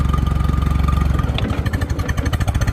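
A Case tractor engine with a Case-O-Matic transmission chugs steadily nearby, then its rhythm shifts and stutters as though labouring under load.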